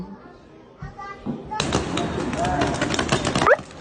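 Shots and bangs fired at protesters during an immigration raid where chemicals are being thrown, a dense burst of loud cracks and pops packed over about two seconds, preceded by quieter rumbling crowd noise with people shouting.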